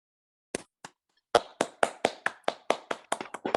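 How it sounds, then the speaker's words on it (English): Scattered hand claps from a few people at an online poetry magazine launch, starting with two isolated claps and then settling into a quick, fairly even run of single claps, close and dry with no talk. "If everybody would like to unmute and give a round of applause to the readers"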